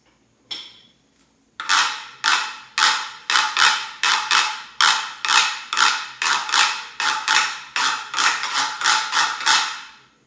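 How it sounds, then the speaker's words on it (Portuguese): A reco-reco scraper from a children's rhythm band, scraped back and forth in a rapid, regular series of loud, rasping strokes, close and alone after a couple of light taps. "O reco-reco é um instrumento que as crianças gostam bastante. Dessa coisa de raspar."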